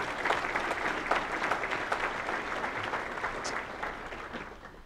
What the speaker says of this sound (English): let's give them a round of applause for supporting us today